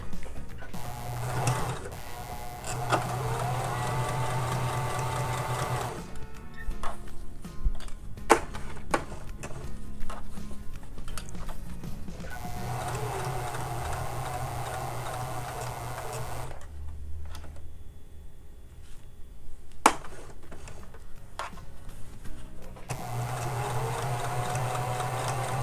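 A sewing machine with a stitch-in-the-ditch presser foot stitches fabric in three steady bursts, including a short backstitch, each run a close, even mechanical whir separated by quieter pauses with small handling clicks.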